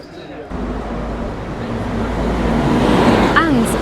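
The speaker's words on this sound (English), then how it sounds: "a bus ripping by as well" A bus on an evening street in Palmanova, Mallorca, drives past, its rising engine and road noise swelling loudly and close over a busy background, with a brief squeal near the end.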